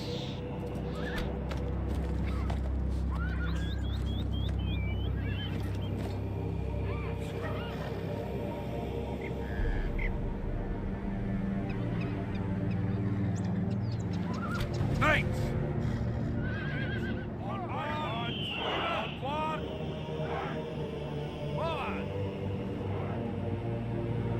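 Cavalry horses in Total War Medieval 2 neigh and whinny repeatedly amid a busy medieval battlefield din with hoofbeats and rumble, while voices shout orders throughout.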